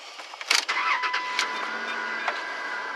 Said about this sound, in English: Now let's go ahead and start the car up.